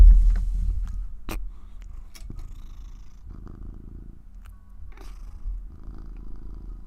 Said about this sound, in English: that's my cat coming into my room